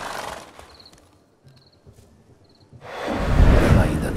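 Horse in The Witcher 3 spooked by a ghost, with soft clip-clop and snorting sounds, then a sudden loud neigh and burst of movement at the end.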